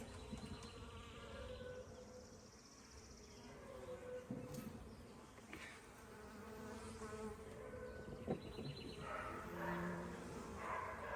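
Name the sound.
honey bees buzzing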